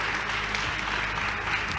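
Congregation applauding in a church, a dense continuous wash of clapping from a large crowd, steady and fairly loud throughout.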